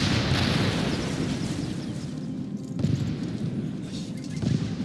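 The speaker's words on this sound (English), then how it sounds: "Our artillery is about to fire." Artillery fire during a battle in Medieval II Total War Kingdoms, Italian Wars setting: a loud, rumbling explosive blast that decays into a dense, noisy roar, followed by further booms and crackling battlefield din.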